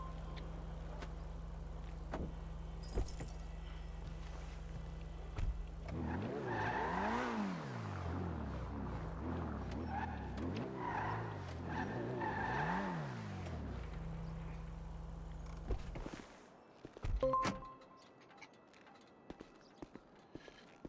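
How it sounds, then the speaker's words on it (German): A car at a car dealership is driven off and parked: engine revs rise and fall in several sweeps under a steady low idle, then the engine cuts off and a door thuds near the end, close by. "Ich pack mal eben das Auto weg"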